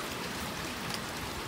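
Rain pours steadily onto a garden after a night-long downpour, a dense, even hiss of drops with no voices.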